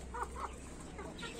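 An Aseel hen clucks in short, soft calls over a steady low background hum, with no talking.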